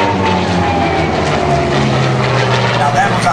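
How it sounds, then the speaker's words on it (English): An F4U Corsair warbird sweeps past in a high-speed airshow pass, its propeller engine producing a loud, steady roar with a whistling edge, while a commentator talks over it. "Now that was a high-speed pass."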